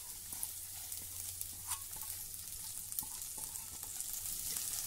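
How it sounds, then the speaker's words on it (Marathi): Mung dal fries in ghee in a wok with a faint, steady sizzle, soft crackles and occasional stirring scrapes, no voices. "आता कढईमध्ये या तुपावर आपल्याला ही मुगाची डाळ"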